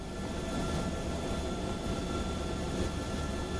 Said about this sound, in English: This will be the engine I'm starting first.